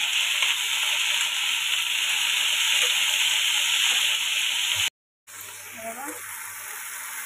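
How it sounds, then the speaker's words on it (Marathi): Two large tomatoes hiss and sizzle loudly as they go into a pan of fried onion, a steady frying crackle that cuts out briefly and resumes, while someone says a word. "आता मी टमाटर टाकते, 2 मोठे साईजचे टमाटर घेतले मी।"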